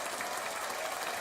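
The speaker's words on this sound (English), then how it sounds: "Round of applause for the Dallas Mavericks one time." A brief, faint wash of crowd applause, even and hissy for just over a second, with no voices over it.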